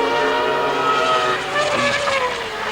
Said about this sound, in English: The V10 Honda engine.